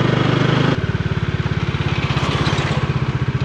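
A Bajaj Dominar 400 motorcycle engine thrums with a fast, even pulsing beat while riding, loud and close, with a brief shift in tone near the start before the steady rhythmic throb continues.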